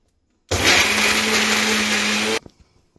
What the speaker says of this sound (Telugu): ఇలా మిక్సీ పట్టుకున్నాను